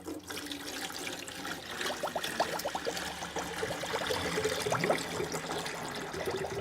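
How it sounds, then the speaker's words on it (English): Water pours and splashes into the reservoir of an ice cream machine, a close, steady trickling fill with gurgling bubbles throughout. "Handle's always shut when you're filling it with water."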